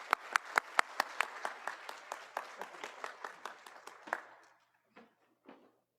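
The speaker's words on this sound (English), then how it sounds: "Join me in another round of applause for our honorees." Audience applause for honorees at a university Black scholars ceremony: a dense burst of sharp claps that thins and fades after about four seconds, followed by a couple of faint scattered claps.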